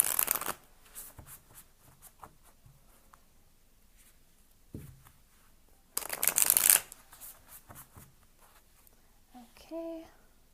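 Tarot cards being shuffled in two loud, brisk bursts, one at the start and one around the middle, with softer handling, taps and rustles of the deck in between and a brief faint chime near the end.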